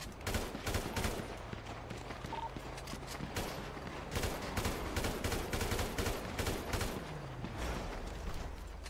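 Rapid bursts of gunfire from a GTA roleplay video game ring out during a breach on a safe house, with dense overlapping shots continuing loudly throughout.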